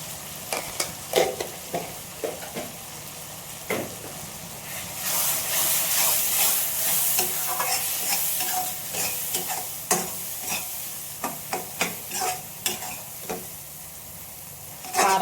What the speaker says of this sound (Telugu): అల్లం వేసి కూడా వేయించేస్తున్నాను